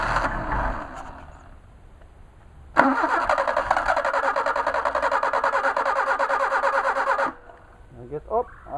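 Mercedes 190SL with Solex 44PHH carburetors cranking for about four and a half seconds in a loud, rhythmic starter churn that fails to catch, flooded with fuel; someone speaks briefly before and after the cranking.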